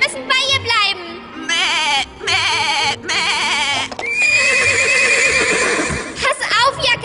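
A cartoon goat in the animated series Yakari bleats in wavering, quavering cries mixed with other animal calls and character voices, loud and close, with the longest bleat near the end.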